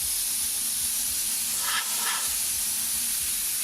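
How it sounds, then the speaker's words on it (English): An airbrush sprays white paint in a wide pattern, a steady close hiss that runs through the whole stretch with a slight brighter swell near the middle. "we're going to take white, and with the same wide spray, we're going to guide it right through the middle"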